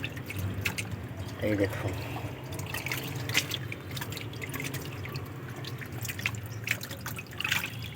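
Water slowly draining from a fish tank, a steady close trickle with small drips over a low background, while a person speaks briefly.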